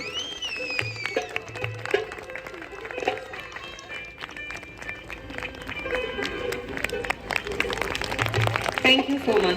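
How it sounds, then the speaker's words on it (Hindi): An audience at a folk theatre event claps as a national award-winning cultural activist is called to the front, scattered clapping that swells toward the end, mixed with crowd murmur and some voices. "तालियों की गूंज रुकनी नहीं चाहिए।"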